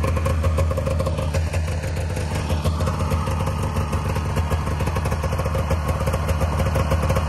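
A 1997 Polaris 500 Touring Classic snowmobile engine idles steadily while warming up, a continuous low, even rumble with light mechanical clatter, close by and unbroken for the whole stretch.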